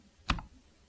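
A single number key is pressed on a computer keyboard, one short close click alone in a quiet room.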